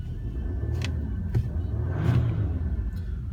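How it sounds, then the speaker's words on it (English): Jaguar car engine idling, a low steady rumble close by with a few faint clicks and brief higher whirs over it. "So I'm just going to start the car up."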